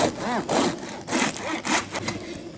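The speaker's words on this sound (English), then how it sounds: "listen to that crisp on the crust" A knife saws through crusty bread in several rough back-and-forth strokes, crackling and scraping loudly up close with no talking.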